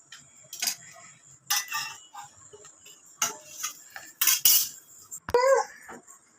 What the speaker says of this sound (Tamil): சோ இப்போ வந்து நம்ம கட் பண்ணிக்கலாம் ட்ரையாங்கிளா.